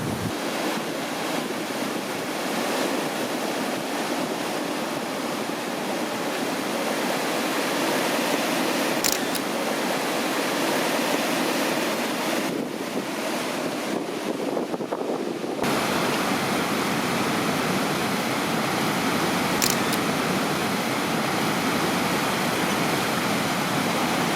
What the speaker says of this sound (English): We're at the next class 3 on the river, and Cam and Duncan are gonna give it a shot